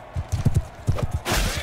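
Horse hooves clop in a medieval video game set in Europe around 1100, a quick run of loud, close thuds followed by a burst of rushing noise near the end.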